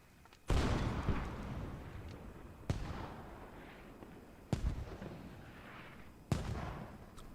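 PPSh submachine gun fire in a multiplayer shooter video game, heard as four loud, sharp blasts spaced about two seconds apart, each trailing off into a rumbling decay, with no talking.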